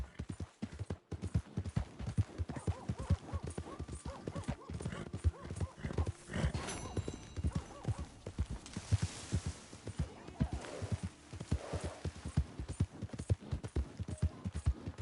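Rhythmic clip-clop of horse hooves at a steady trot in the video game Red Dead Redemption 2, close and prominent, with brief snorts and faint voices in the background.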